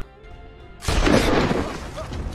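Sniper gunfire in a war film scene, with Georgian soldiers coming under fire: after a quiet start, a loud sudden boom breaks out and rolls on into sustained rumbling blasts.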